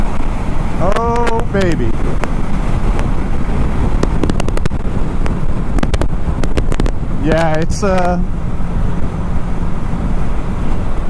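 A big-engined 2018 BMW K1600 Grand America motorcycle accelerates with a loud, steady wind-buffeted engine roar, with two clear rising-and-falling revving sweeps as it shifts; a rider speaks briefly over it.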